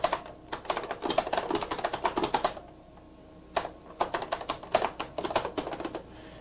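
Typing on a computer keyboard while composing a message: close, brisk bursts of clicking keystrokes, a short pause, then another run of rapid typing, with no voices.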